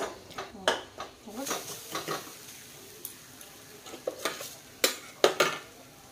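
Metal utensil scraping and clinking against a pan as fish fry in water without oil, with a soft frying hiss underneath; irregular taps, close by.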